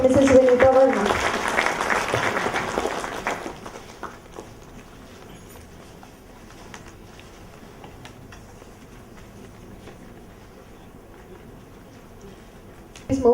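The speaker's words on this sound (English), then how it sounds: "Can we have a round of applause for Mrs. Vinita Verma?" A gathering claps for a guest of honor, a loud burst of applause for the first few seconds that fades away, leaving quiet room tone with faint shuffling and a brief noise at the very end.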